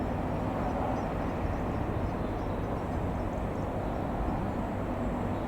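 A Eurocopter EC135-P2+ police helicopter from the National Police Air Service hovers near Penryn in Cornwall, making a constant, distant, broadband rotor and turbine roar that stays level throughout.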